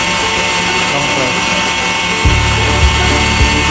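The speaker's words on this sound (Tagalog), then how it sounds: "ngayon, isa-service test natin yung oil pump" Oil pump of a 30HXC water-cooled screw liquid chiller starting under test. A steady broadband mechanical roar runs throughout, then a low, even motor hum cuts in about two-thirds through and keeps running with faint periodic pulses.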